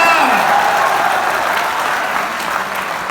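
A brief round of clapping from a laughter show audience, loud at first and thinning out over about three seconds.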